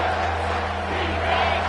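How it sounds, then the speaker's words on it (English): A stadium crowd roars steadily in a Michigan versus Alabama college football video game, a dense, loud, unbroken wash of cheering with no gaps. "Third down, and this crowd is tearing the lid off this place."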